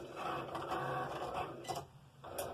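Vinyl cutting machine cutting a design in heat-transfer vinyl: quiet, fast mechanical whirring and stepping with short buzzy bursts as the blade carriage moves, close by, without talk.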